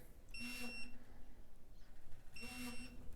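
A Snap-on tool gives a loud electronic buzz twice, each burst lasting about half a second, with a quiet gap of roughly two seconds between them over a low steady background.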